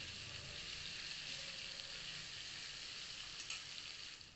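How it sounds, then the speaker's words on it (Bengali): Potatoes frying in oil for a bitter gourd dish, a faint but continuous hissing sizzle that stays even throughout, with a few light stirring clinks and no talking. "আলুটাকে ভাজবো"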